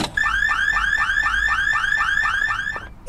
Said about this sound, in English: the car alarm's not in the habit of going off by itself